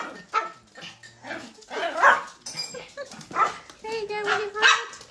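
A small dog barks and yips several times in short bursts, close by, while a person talks over it.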